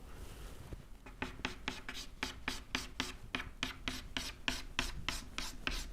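Pencil on paper drawing a geometry figure, a cube in cavalier perspective, as a quick, regular series of scratchy strokes, about a dozen evenly spaced, close and quiet.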